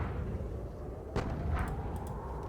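A distant artillery boom sounds in a Napoleonic battle video game from the John Tiller series, rising over a steady low rumble of background noise. A few faint, higher cracks follow it.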